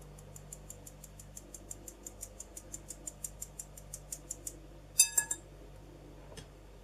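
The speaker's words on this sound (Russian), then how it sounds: "Просеиваю муку." Flour sifted through a sieve for a homemade kefir-based cake, heard as a steady run of soft, evenly spaced tapping scratches, followed by a few louder clinks near the end, with no talking.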